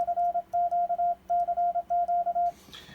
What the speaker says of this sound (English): now we should get some CW out of the paddle